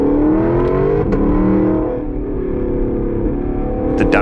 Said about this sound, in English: It has a sport tuned exhaust just like the RCF does.